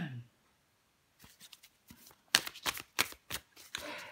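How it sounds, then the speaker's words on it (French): Tarot cards shuffled and drawn by hand, a brisk run of crisp riffling flicks and slaps that starts softly and grows louder, close up, with a brief voice at the very start. "Allez, je prends encore une carte."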